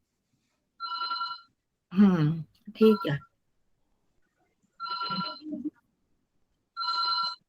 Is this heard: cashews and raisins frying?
no